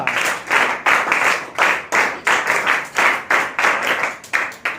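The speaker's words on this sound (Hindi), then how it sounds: "हिंदी क्लब के लिए जोरदार तालियां।" Loud, enthusiastic applause from a school audience after a Hindi club couplet-singing performance, steady rhythmic clapping sustained throughout with no voices over it.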